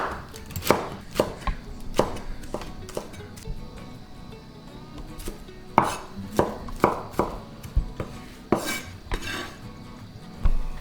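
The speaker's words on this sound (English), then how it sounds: "stack them together and slice them as well using your knife on the chopping board" A knife slices through stacked cabbage leaves on a chopping board, giving sharp, close, irregular knocks against the board with short pauses between bursts of cuts.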